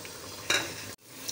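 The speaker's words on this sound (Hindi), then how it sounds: "डीप फ्राई ही होंगी ये।" Vegetable cutlets (shami kababs) deep fry in ghee with a soft, close sizzle. A louder surge of bubbling crackle swells midway, then the sound cuts off abruptly before the frying hiss resumes.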